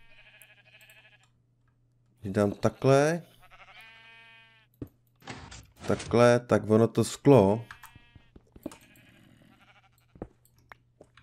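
Sheep in the video game Minecraft bleat a few times in short wavering bursts, close and clear, while someone talks over and between the calls.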